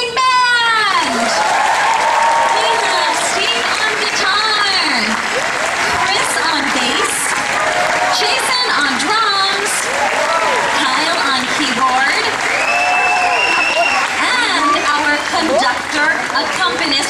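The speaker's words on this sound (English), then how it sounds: "please give a big round of applause to our amazing band!" An audience at a Disney on Broadway stage show at Epcot gives the band dense, sustained applause, loud and continuous from start to finish, with scattered cheers mixed in.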